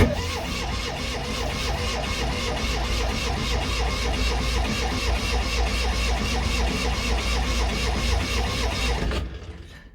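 A barn-find Fiat 500 engine being cranked without catching, a continuous rhythmic whirring churn that runs close and loud for about nine seconds before cutting off abruptly.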